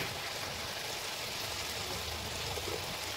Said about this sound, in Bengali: জল দিয়ে একটু কষিয়ে নিই।